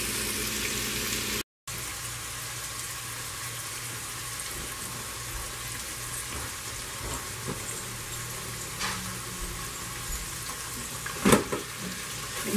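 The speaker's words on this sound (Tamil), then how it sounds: "வெங்காயம் நல்லா வதங்கணும்." Chopped onions sautéing in a pan of hot oil for mutton biryani, a steady, low sizzling hiss that holds even throughout, with a brief dropout early on and a faint clink near the end.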